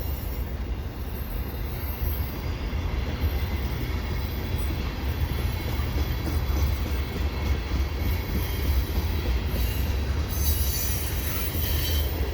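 A CP freight train led by a heritage SD70ACU locomotive rolls past at Dorval in winter, wheels squealing in a continuous high whine over a steady, loud rumble of rail cars.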